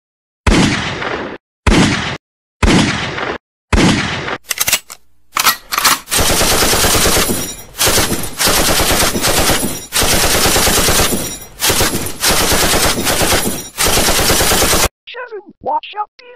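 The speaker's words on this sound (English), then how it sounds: "I can't believe I'm fighting these guys with a goddamn assault rifle" Assault rifle fire in a video game, starting as short separate bursts and building into long, loud, sustained automatic volleys with brief gaps, then a faint trailing echo at the end.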